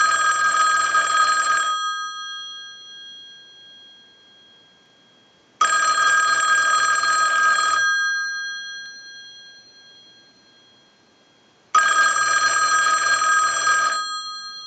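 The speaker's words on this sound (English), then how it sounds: "send a ring cycle, so we'll start that. I'm going to let that go a few times" Bell of a Western Electric 554 rotary wall telephone, on the bench during repair, rings in three loud, clear bursts of about two seconds each, separated by roughly four seconds of quiet, with no voices.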